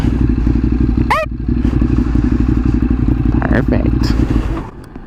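A Honda Grom motorcycle's engine idles and putters loudly and close up while it is ridden into a parking spot, with light clatter and a thud near the end as the engine drops off; a voice briefly comes through.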